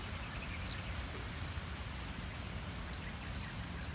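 Heavy rain pours down steadily in a dense, even hiss of countless drops on surfaces, continuous and fairly quiet, with no voices.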